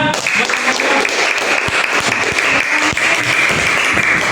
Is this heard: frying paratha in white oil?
no